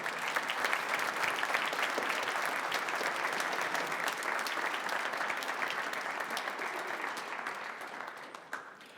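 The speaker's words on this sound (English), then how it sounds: "Give them another round of applause." A concert audience gives another round of applause to a troupe of clowns at a veterans concert, with full, continuous clapping that holds steady for several seconds and then tapers off.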